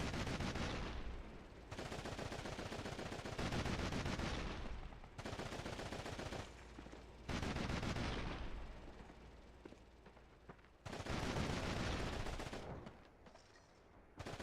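Repeated bursts of gunfire from the World War II shooter Call of Duty 2: Big Red One on PlayStation 2, loud sustained volleys separated by brief pauses, with no talk.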